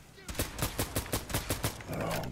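VHS-2 bullpup rifle firing in Fallout 4, about eight evenly spaced sharp shots in a quick rhythm, loud and close, followed by a brief noisy tail.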